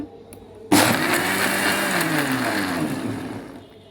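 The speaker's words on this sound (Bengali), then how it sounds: "তো এটাকে এখন আমি ব্লেন্ড করব।" A blender switches on abruptly and whirs loudly and steadily while pureeing pomegranate for homemade juice, the motor tone easing slightly as it runs for about three seconds.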